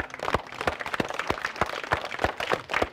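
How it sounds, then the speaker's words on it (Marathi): Audience on a Marathi television game show claps for a contestant, a steady run of sharp hand claps in an uneven rhythm that holds moderately loud for about three seconds. "एकदा विजयसाठी जोरदार टाळ्या."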